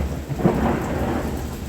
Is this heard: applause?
no